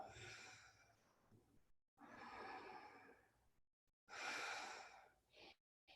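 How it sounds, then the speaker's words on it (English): Slow, audible breath sounds during a vinyasa yoga flow, three long airy exhales separated by brief silences, soft and close with no talk. "Exhale, breathing out nice and slow."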